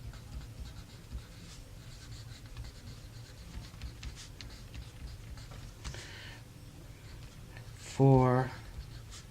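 Pencil scratching across a paper worksheet during a math lesson, soft steady strokes under a teacher's talk, with a brief tonal sound near the end.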